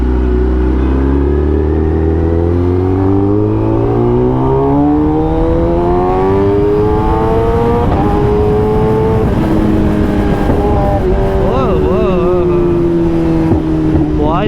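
A Kawasaki ZX10R motorcycle ridden in low power mode with traction control set to 5 on a Lahore street, its engine droning and rising through the gears in a continuous loud note.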